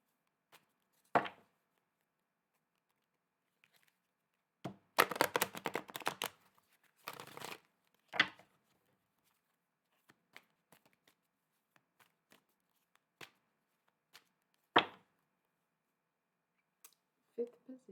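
Tarot cards are shuffled in bursts, quick riffling flutters and a few separate snaps and taps, set apart by quiet gaps and recorded close and fairly soft.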